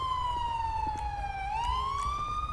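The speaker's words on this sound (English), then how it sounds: "Turn my siren off." Police car siren from the LSPDFR police game, a loud continuous wail sweeping slowly down and back up over steady low road rumble, with no talk.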